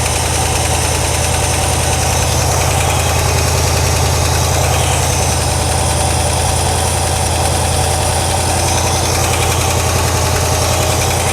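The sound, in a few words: 1963 Ford Galaxie engine idling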